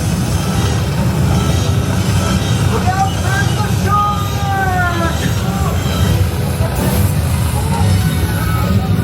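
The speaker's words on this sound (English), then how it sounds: "Oh, there's a bigger tram." A studio tour tram rolls by at Universal's backlot with a steady loud rumble and squealing, whining wheels, while people talk over the noise throughout.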